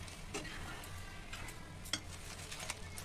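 Chutney stirred in a hot pan: soft scraping strokes and faint sizzling under a low steady hum, with a few light taps of the spoon against the pan.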